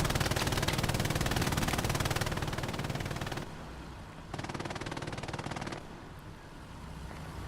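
An MG42 machine gun fires long, rapid bursts in a console video game, a dense rattling stream that breaks off, then resumes in a second shorter burst, fairly loud with wind-like background noise.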